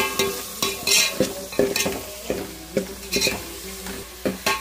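Onions and masala frying in a pan for a Telugu-style fish curry, with a steady sizzle broken by repeated stirring scrapes and clinks of a spoon against the pan, close and fairly loud throughout.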